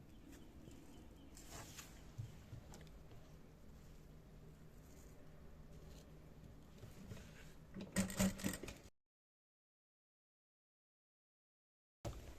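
A sewing machine stitches pleats into organza fabric, a quiet, steady mechanical whir running for several seconds before stopping abruptly, followed by silence.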